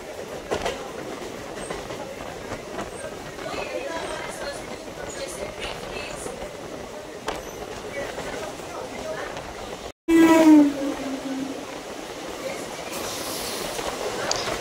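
A Bardhaman–Howrah local train runs near Bali station with a steady, close rumble of wheels on rails, then a sudden loud squeal or horn cuts in near the end.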